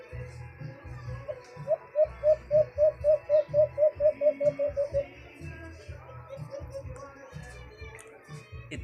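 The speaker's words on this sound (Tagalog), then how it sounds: "Iba sila ng huni ni Pantra mga birds." Pet birds in a cage give a repeated series of about a dozen soft, rhythmic pigeon-like coos, followed by a few fainter calls, over a quiet background with low rumbling.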